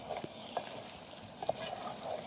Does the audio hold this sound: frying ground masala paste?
yes